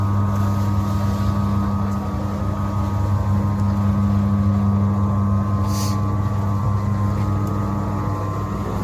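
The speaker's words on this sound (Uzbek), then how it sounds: "Motori 3 kW 220 ga ishlaydi motorlari." A 2 kg animal feed mixer with a 3 kW, 220 V motor runs with a loud, steady, unbroken mechanical hum and drone, and no voices are heard.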